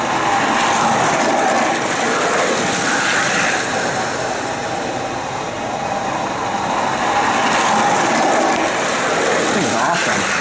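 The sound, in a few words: 1979 Lionel O-Gauge model train running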